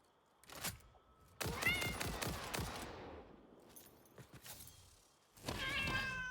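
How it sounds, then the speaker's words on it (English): In a video game's arachnophobia mode, where a cat replaces the spiders, cat meows sound out in several loud, close bursts mixed with gunfire-like thuds and game effects. "ignore the meowing sounds"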